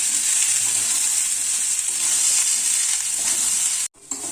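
Moong dal and papaya fry in a pan with a steady, loud sizzle and occasional stirring scrapes, cutting out abruptly near the end before resuming.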